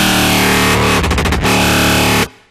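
A loud, heavily distorted dubstep growl synth with its ratio set to 8 snarls continuously. A wobbling, rhythmic modulation stutters through the middle before the sound cuts off abruptly into a short fading tail.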